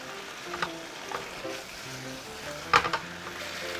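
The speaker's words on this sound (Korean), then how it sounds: "그리고는 잘 섞어주시면서 졸여주세요" Chicken wing sauce in a single pan simmers and reduces as it is stirred, a soft low bubbling sizzle with a few scraping clicks of the utensil against the pan.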